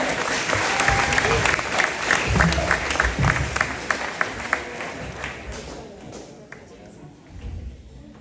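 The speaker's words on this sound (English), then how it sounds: "Let's hear another round of applause for my classmates for helping me out." A graduation audience applauds classmates at a school valedictorian speech, a full burst of clapping that gradually thins and fades out, with some talk beneath it.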